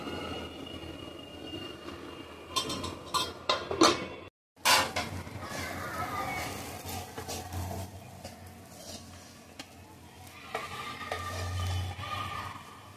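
A lid goes onto a cooking pot of pigeon pea and green pea kachori filling, a brief cluster of metallic clinks and clatter followed by a steady low background rumble.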